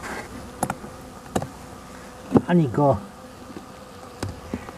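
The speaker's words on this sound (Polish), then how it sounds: "a pszczoły tak się wkurzyły, że aż się schowały przed ulem" Angry honeybees buzz steadily at a hive in the background with a few sharp taps, while a person speaks briefly near the middle.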